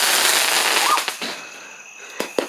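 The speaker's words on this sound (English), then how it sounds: "That firework right there," A Fourth of July firework bursts overhead with a broad crackling roar that fades into scattered sharp pops and snaps, heard fairly close in the open air.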